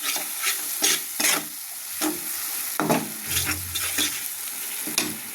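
Mustard paste sizzles and spits in a hot pan for katla fish curry, with repeated stirring scrapes in an uneven rhythm, close and fairly loud, no voices.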